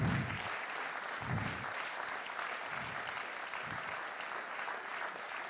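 A theatre audience in Padova claps for a performer and author, a full, sustained round of applause from a sizeable crowd with a few low thumps and murmurs mixed in.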